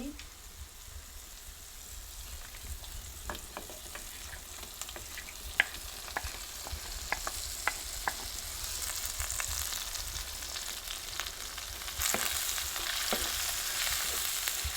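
Steady sizzling of gumberries frying in spiced oil, with scattered pops and crackles and a louder surge of sizzle near the end.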